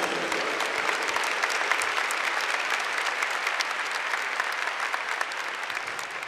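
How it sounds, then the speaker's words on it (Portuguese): Applause from a church congregation rises as a dense, sustained wash of clapping, loud and even throughout without a break, with no talk over it. "Vamos aplaudir a palavra de Deus."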